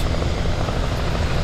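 Loud, close helicopter rotor thumping with a dense engine roar in the video game Alan Wake, constant and unbroken throughout.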